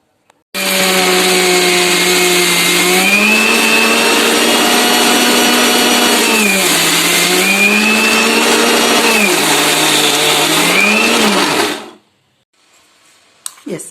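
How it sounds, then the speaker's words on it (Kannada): An electric mixer grinder whirs loudly as it grinds peanuts into powder, a steady high motor whine lasting about eleven seconds with a few pitch dips as the load shifts, then stopping abruptly into near silence. "ಹಾಗಾಗಿ ಫಸ್ಟು ಶೇಂಗಾವನ್ನು ನಾನು ಮಿಕ್ಸಿ ಮಾಡ್ಕೋತೀನಿ."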